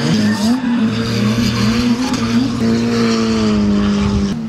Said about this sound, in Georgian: თუ დააკვირით რა სომხურ მანქანას ისეთი ხმა აქვს.